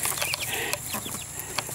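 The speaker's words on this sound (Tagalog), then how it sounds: "Mga namanok." Chickens clucking close by in a rural yard: several short, overlapping clucks and calls over a steady hiss of background noise.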